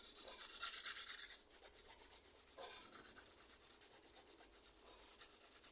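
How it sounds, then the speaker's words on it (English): A nail file rubbing over an acrylic-hardened teabag repair on a fingernail, close rasping strokes in short bursts, strongest at the start and again midway, then lighter scraping, no talk. "That the Teabag is already hardened with the acrylic. And I'm going to file that."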